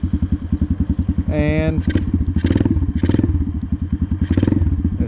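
An Amazon pit bike with an upgraded carburetor fires up and settles into a steady, rapid thumping idle close by, with clattering mechanical noise, a brief rising scrape, and someone talking over it.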